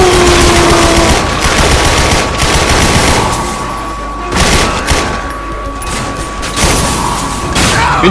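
Kalashnikov machine gun fire in The Darkness II video game comes as loud, dense bursts of rapid automatic shots with booming impacts, broken by short pauses between volleys.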